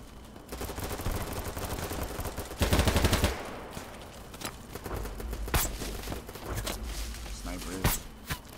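Gunfire in the video game BattleBit Remastered: repeated sharp shots and rapid automatic bursts, some close and loud, others farther off, spread through the clip with a dense fusillade near the middle.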